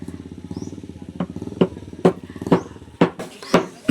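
A motorcycle engine belonging to a relative runs close by with a steady low chugging rhythm, broken by several sharp clattering knocks spaced roughly half a second apart.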